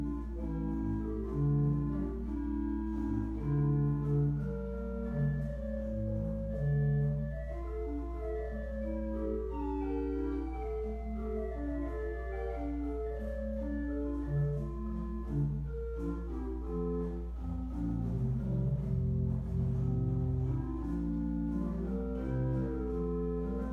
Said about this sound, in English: We've got a really nice 8-foot lieblich gedackt.